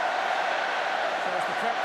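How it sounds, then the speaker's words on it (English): Rugby stadium crowd at Wales versus South Africa, a broad continuous roar of cheering and noise filling the space, steady and loud throughout with no clear breaks. "Crowd are so involved in this one"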